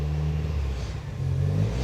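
A built turbocharged Mazda Miata engine idles on its own with no throttle, a low, steady rumble with a slight uneven wobble, heard close and alone.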